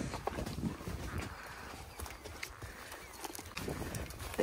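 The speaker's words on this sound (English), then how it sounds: "Oh, Annie wants to splash now." Horse hooves splashing and clopping through a very muddy puddle on an outdoor trail, a steady run of wet, sloppy steps close by with some rustling, and faint voices in the background.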